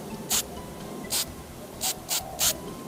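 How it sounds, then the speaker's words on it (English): A spray paint can lightly mists paint onto the plastic of a Nintendo GameCube controller from a long distance: five short, soft hissing bursts with gaps between them, over a faint room background. "just get the your spray can from a very long distance and just mist the surface"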